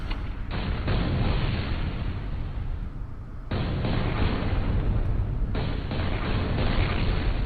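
Heavy cannon fire and explosions from the F.E.A.R. 2 video game, a dense rumbling barrage that cuts off and resumes in long loud bursts, with no voices over it.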